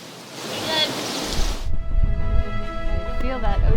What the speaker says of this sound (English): Feel that ocean breeze.